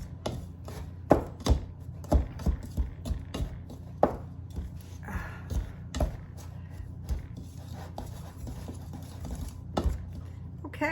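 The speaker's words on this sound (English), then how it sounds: "you want to just blend that in to the dry ingredients" A utensil blends dry baking ingredients in a bowl, making close, rhythmic tapping and scraping strokes that repeat steadily throughout.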